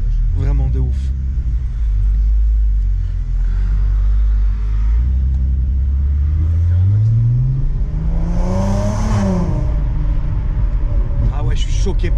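A loud VW Golf 4 R32 engine rumbles steadily, then revs up in a rising sweep and falls back, close by, with people talking over it.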